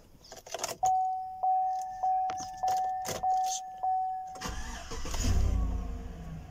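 A Chevrolet Tahoe or GMC Yukon from the 2015–2020 range cranking after battery reconnection during steering column work, with several short repeated starter bursts and a steady tone before the engine catches into a low, rumbling idle nearby.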